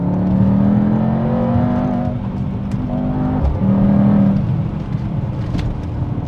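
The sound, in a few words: Mercedes-AMG GT 63 E Performance exhaust pops and bangs, full throttle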